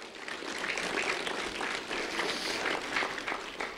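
An audience applauds at a community awards event, a dense, even wash of many hands clapping at moderate loudness with a slightly distant, roomy sound throughout.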